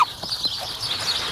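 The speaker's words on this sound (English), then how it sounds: "here we go with the feeding frenzy. That's what we have to deal with. Pushy chickens." Chickens cluck and squawk in short bursts close by, with a soft background hiss and a few sharper calls.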